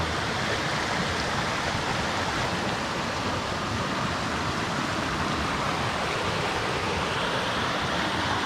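Gürleyik waterfall near Ankara pours in a loud, continuous roar of falling water, dense and unbroken from nearby, with no one speaking over it.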